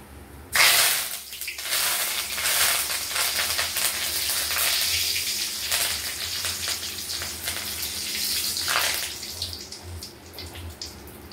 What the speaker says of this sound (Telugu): ఇప్పుడు కొంచెం కరివేపాకు కూడా ఫ్రై చేద్దాం.